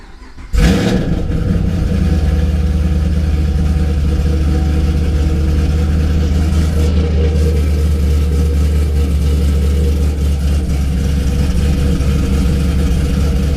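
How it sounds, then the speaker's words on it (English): A Chevrolet Camaro ZL1 cranks and fires up, then settles into a loud, steady, rumbling idle that carries on for over twelve seconds with no talk over it. "just going to cycle the ignition, start the car"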